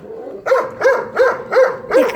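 A dog barks five times in a steady, evenly spaced run, each bark loud and close with a rough, slightly whiny edge, and no other sound fills the gaps between them.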